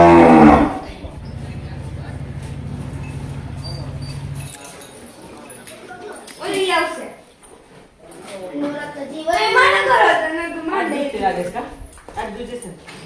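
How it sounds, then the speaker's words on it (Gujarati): Gir cows are being fed on a farm and give a sustained low moo at the start. Several voices then talk over the quieter animal sounds and shuffling. "અહીંયા ગાયોને ખવડાવે છે"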